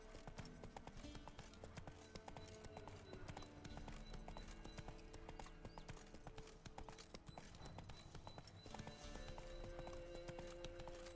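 A horse's hooves clip-clop at a steady walking pace in the Witcher 3 video game, with soft rhythmic thuds over quiet ambient game sound.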